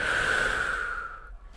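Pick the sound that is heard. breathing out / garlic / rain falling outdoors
breathing out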